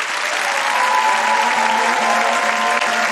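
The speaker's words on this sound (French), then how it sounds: "Un tonnerre d'applaudissements pour Guillaume!" A crowd applauds Guillaume after his pitch at a 2017 final, steady dense clapping at high volume with no voices.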